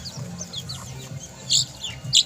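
Young chicks peeping in a series of short, high chirps, with a couple of louder calls near the end over a low background rumble; no talking.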